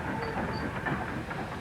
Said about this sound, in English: Steam locomotive went forward into a siding.